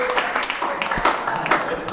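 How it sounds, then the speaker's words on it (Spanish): Church congregation applauding two actors after a sermon skit, with scattered, uneven claps rising and falling over a couple of seconds while a voice carries on underneath. "le damos un aplauso"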